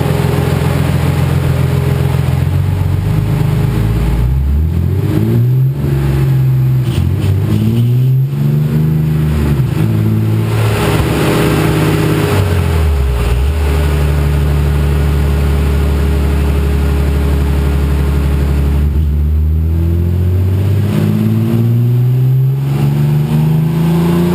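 A car with an HPF Stage 4 setup revs hard on a dyno, its engine note climbing and dropping through several loud, close pulls that are cut short, with no talk.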